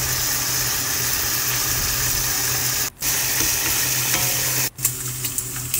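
Marinated pork shogayaki sizzling loudly in a pan as the slices are flipped, a steady bright frying hiss with brief stirring scrapes, two short dropouts where the sizzle cuts away, no talk.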